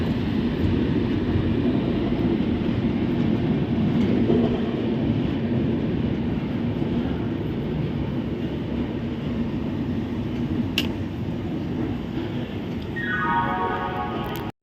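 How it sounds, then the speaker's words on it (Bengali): A continuous low rumble of the Jammu–Howrah Himgiri Express rolling along the tracks into Asansol Junction, steady and loud, with a rising tone near the end. "আসানসোল জংশনের ট্রেন ঢুকছে"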